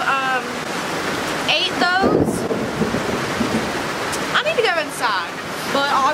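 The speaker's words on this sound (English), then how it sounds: "it's raining pretty good right now" Steady heavy rain hisses and patters outdoors, with birds chirping intermittently over the constant downpour.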